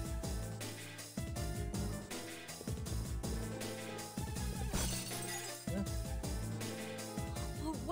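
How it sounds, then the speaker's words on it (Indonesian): A plate shatters in Persona 3 FES, a bright crash with a burst of fragments breaking out partway through over looping game music. "Piring pecah lo tiba-tiba"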